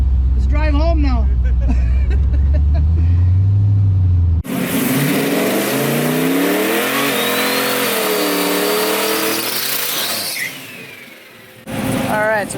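A drag-racing street truck accelerates hard and loud, its engine climbing through the gears in long rising pulls with shifts between them, after a stretch of voices and a deep low rumble.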